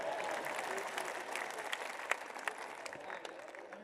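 A crowd at a Hindi poetry gathering (kavi sammelan) breaks into sustained applause, dense clapping that holds steady throughout with a few sharper claps standing out.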